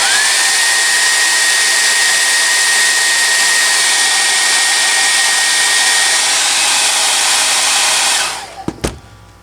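A hair dryer heats the joint of a toy Godzilla figure, blowing as a loud, steady, close whoosh with a constant whine that runs nearly the whole time before cutting off with a few clicks at the end.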